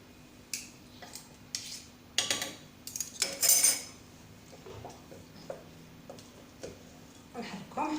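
A spoon stirs barley soup ingredients with tomato paste in a cooking pot, giving irregular metallic clinks and scrapes separated by quiet pauses.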